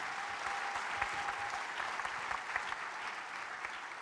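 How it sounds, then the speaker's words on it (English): Sustained applause from a town hall meeting audience gathered in a church, dense steady clapping filling the room throughout with no pauses. "if everyone could just give me a big round of applause for the pastor and the whole congregation"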